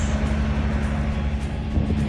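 Idling truck engines rumble low and steady at the Guatemala border crossing, a continuous dense drone of heavy vehicles with faint higher traffic noise above it.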